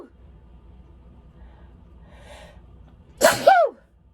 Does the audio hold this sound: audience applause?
no